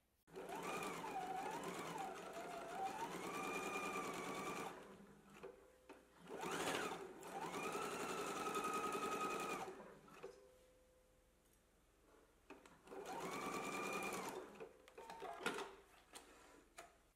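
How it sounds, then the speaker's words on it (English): A sewing machine stitches darts in fabric, running in three separate bursts of steady, whirring stitching with short pauses between them, close and clear with no talking. "Let's go ahead and stitch our darts in place now."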